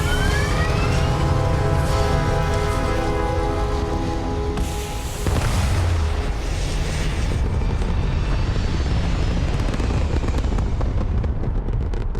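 A spaceship lifting off in Starfield: a loud, continuous engine roar with a deep rumble and rising whine, swelling briefly mid-way and then thinning into a broad rushing noise.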